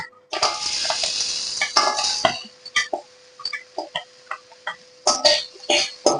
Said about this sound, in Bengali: এবার আমি ডালের গুঁড়িগুলো ভেজে নেব